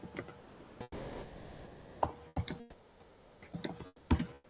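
Computer keyboard typing during an online coding bootcamp session, heard as quiet, irregular clusters of clicks and key taps over faint background noise with no talking.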